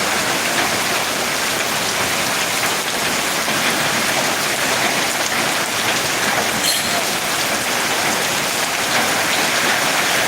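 Heavy rain falls steadily in Ariyalur, a dense, constant hiss of drops on surfaces that stays loud and unbroken throughout, with no voices.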